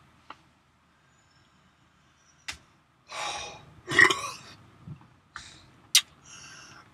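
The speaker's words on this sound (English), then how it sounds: "Bacon burp." After a few small clicks, a man lets out a loud, raspy burp following a swig of bacon soda, then several shorter gulping, breathy burps and gasps trail off nearby.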